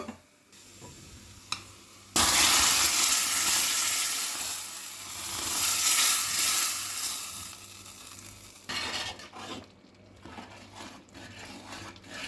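A hot tempering of garlic, Kashmiri red chili and oil is poured into dal makhani and erupts in a loud sudden sizzle. The sizzle fades slowly into stirring scrapes and softer crackles.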